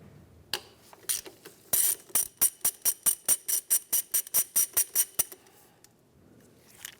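A ratchet wrench works an 8 mm bolt under the hood of a 2003-2011 Honda Element during a serpentine belt tensioner replacement, making a close, steady series of about a dozen sharp clicking pawl strokes, with no talk.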